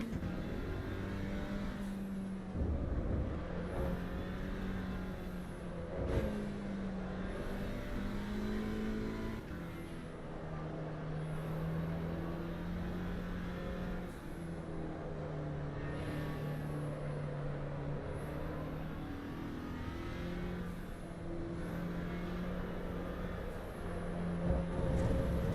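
An Alpine A110 race car engine drones around Suzuka in Assetto Corsa EVO, a steady engine tone rising and dropping through repeated gear shifts and downshifts over a long lap.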